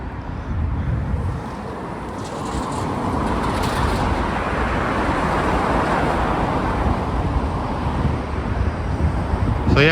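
Steady, loud roar of motorway traffic streaming past beneath a bridge near a city university, continuous road noise with wind buffeting the microphone and no talking.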